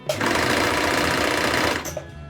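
Old Soviet-era sewing machine running at speed, a loud continuous rapid mechanical clatter for nearly two seconds before it slows and stops, close up and without talk.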